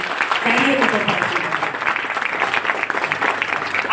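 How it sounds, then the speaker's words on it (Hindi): Hearty applause for women achievers at a public program in Siwai, a thick steady patter of many clapping hands with some voices faintly audible beneath. "इन बहनों के लिए जोरदार तालियां बजा सकती है"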